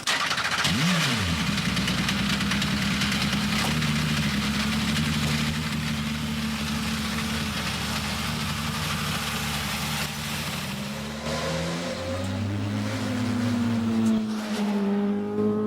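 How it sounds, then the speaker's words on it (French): A Renault Laguna British Touring Car Championship race car engine is started, then settles into a loud, steady idle with low rumbling tones that shift slightly toward the end, heard close and alone. "Ensuite tu mets le contact et tu appuies sur le start sans accélérer."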